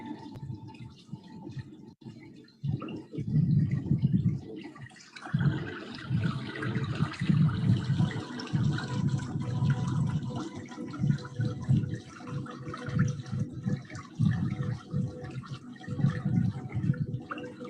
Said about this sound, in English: with the soothing sound of water flowing